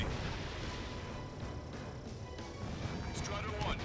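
A missile strikes and destroys a tank in a military video game, a loud heavy crash and rumble over continuous battlefield noise, with voices talking through it.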